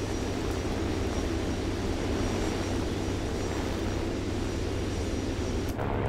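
Wyvern British attack aircraft engine in War Thunder, a steady loud droning roar that holds without a break, with no voices over it.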